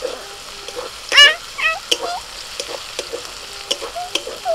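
Egg kima frying in a pan with spatula stirring, a steady sizzle under repeated scraping and clinking strokes, while a woman and a child chat nearby throughout.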